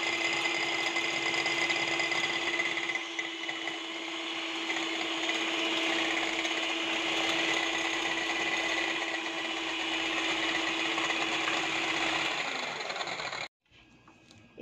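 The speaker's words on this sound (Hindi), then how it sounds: "सबसे पहले ऑयल और एग को बीट करेंगे, एक एक करके एग डालेंगे इसमें और बीट करते जाएंगे" An electric hand mixer whirs steadily as it beats oil and eggs together for cake batter, a continuous motor drone that runs without pause before cutting off abruptly near the end.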